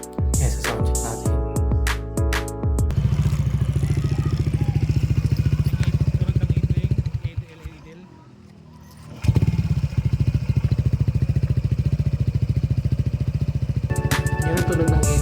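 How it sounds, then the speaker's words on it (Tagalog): Honda ADV160 scooter fitted with an MT8 rat-look aftermarket pipe idling, a steady low putter close by, briefly dropping out midway before resuming, with light mechanical clatter and no speech. "Kung naka-idle siya, ganyan ang tunog."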